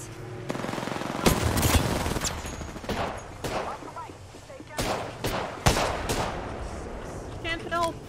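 Rapid gunfire in a ranked online shooter match, with dense volleys and scattered single shots crowding the clip at close range while voices talk over the action.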